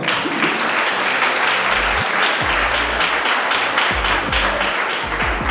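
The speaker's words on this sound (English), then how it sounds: "If you want to clap, clap." Loud, steady audience applause filling a graduation ceremony hall, dense clapping sustained throughout with some low murmuring voices underneath.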